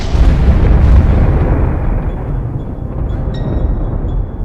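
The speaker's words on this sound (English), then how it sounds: "Whenever it comes into contact with normal matter, the two annihilate each other in a ferocious blast of energy." Sound effect of a ferocious blast from matter and antimatter annihilating, a loud deep rumbling explosion that swells at once and then slowly fades, with a faint high whine lingering in the tail.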